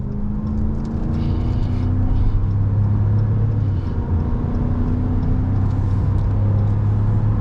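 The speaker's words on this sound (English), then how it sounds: "Listen to the sound of the motor." A truck's motor pulling under throttle through a curve, a deep, steady rumble with a rising engine tone that builds gradually, close and loud, with no voices over it.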